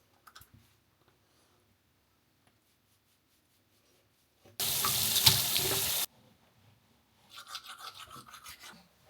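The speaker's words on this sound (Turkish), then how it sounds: "gözümü bir yıkayayım" Tap water gushes loudly into a sink for about a second and a half, with quiet handling clicks before it and a softer splashing burst afterward.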